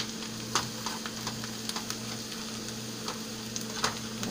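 Onions sautéing in a pan give off a steady, moderate sizzle, with a few sharp pops and clicks scattered through it and no voices.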